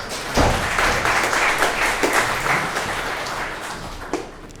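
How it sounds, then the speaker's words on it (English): An audience at a motivational talk gives Chris a round of applause, steady many-handed clapping starting abruptly and holding for about four seconds before tapering off. "Give Chris a big round of applause"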